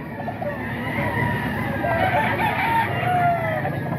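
A Lemon Sweater rooster crows steadily through a noisy outdoor setting, its long drawn-out call rising and holding over a constant background hum.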